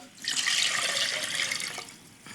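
Water poured into a pot in a TV studio kitchen to start poaching pears, a steady bright splashing stream for about two seconds that tapers off, heard alone without talk.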